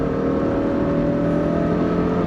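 A Peugeot 405 Mi16 engine is held at a steady high rev in a short loud burst, its tone climbing slightly while accelerating, with no voices.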